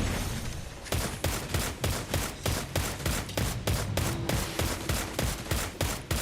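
Rapid, evenly spaced rifle shots from a weapon in the shooter game Destiny: Rising, about a dozen loud sharp cracks in steady rhythm with no talk over them.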